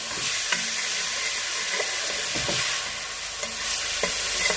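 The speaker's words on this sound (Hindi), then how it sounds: "चिली सॉस, थोड़ा सा इसको फ्राई करेंगे।" Chicken sizzling and frying in a pan with soy sauce and chili sauce, a steady hissing crackle throughout with occasional stirring scrapes and clinks, close and moderately loud, no talking.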